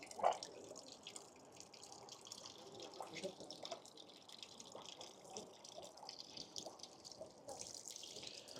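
Hands rinsed under cold running water at a Japanese shrine purification basin near Mount Fuji, a soft steady trickle and splash with light dripping, faint and continuous under outdoor background noise.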